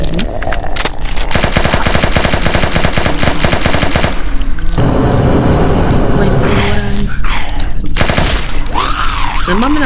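Loud, sustained automatic fire from a Kalashnikov rifle in a video game, rapid rattling bursts that dominate throughout, broken by brief gaps, with other game effects and sweeping sounds near the end.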